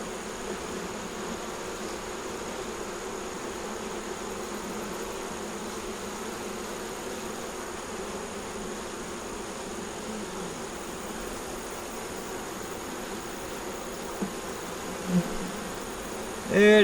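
Honeybees drone in a steady, dense buzz around a hive with nuc boxes, some crawling underneath it, a continuous close swarm hum that holds level throughout with a brief louder bump near the end.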